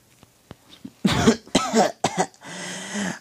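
A video game character coughs harshly in a quick series, near and loud, after a few soft clicks, ending in a raspy breathy wheeze.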